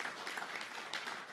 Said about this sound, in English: Please, one more round of applause for the entire team that created this program here for you today.